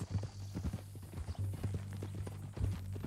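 Horse hooves clip-clop in Red Dead Redemption 2, a steady walking rhythm under a low engine-like hum, with faint voices now and then.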